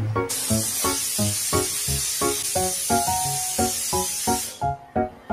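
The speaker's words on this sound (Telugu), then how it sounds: "ఇప్పుడు మూత పెట్టేసి కొంచెం ఆవిరి వచ్చాక విజిల్ పెట్టి 3 విజిల్స్ రానివ్వండి" A pressure cooker of chickpeas cooking on the stove lets off a loud, steady steam hiss for about four seconds, then cuts off abruptly, with a rhythmic tonal pattern running underneath throughout.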